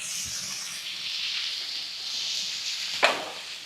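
Food sears on a Weber Slate 36-inch griddle in a steady broad sizzle and hiss with no talk, and a brief sharp crackle rises near the end.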